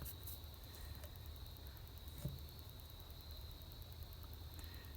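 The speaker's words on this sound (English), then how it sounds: "Maybe I should shut up just so you can hear the crickets" Crickets chirp at night in a steady, faint, high-pitched trill that carries on unbroken under a low background hum.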